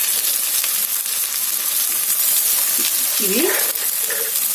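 Sprouted chickpeas and pieces of bottle gourd fry in a hot pan with a loud, dense, unbroken sizzle right up close, while a voice briefly speaks over it.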